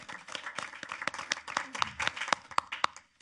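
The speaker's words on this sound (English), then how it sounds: "It does deserve a round of applause" A sparse handful of people in a city council meeting clap in distinct, uneven hand claps, fairly quiet and close, with no steady crowd roar behind them.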